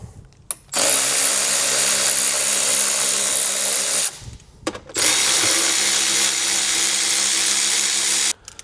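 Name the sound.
power tool removing 10mm bolts from Tesla Model Y front bumper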